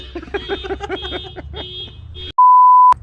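Voices talk briefly, then a single loud, steady electronic beep from a Toyota Tacoma alarm sounds for about half a second before cutting off sharply.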